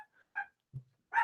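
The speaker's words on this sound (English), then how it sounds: "That's my dog in the background. Please ignore." A dog in the background gives a few short, separated barks and yips, fairly faint, with quiet gaps between them and no talk over them.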